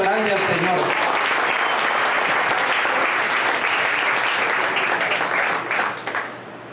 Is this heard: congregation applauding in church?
yes